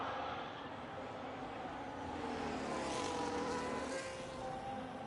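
A Ferrari Formula 1 car at Monaco in a racing video game passes the marina as a steady engine roar that swells and fades slightly, heard alone at moderate volume.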